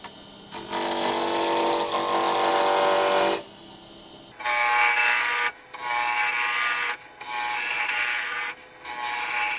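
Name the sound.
wood lathe turning a pen blank with a roughing gouge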